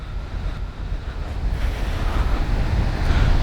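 Sea surf rolling onto Colva Beach in South Goa, a steady broadband wash with wind buffeting the microphone, building slightly louder toward the end, no voices.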